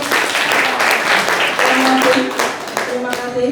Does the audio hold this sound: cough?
no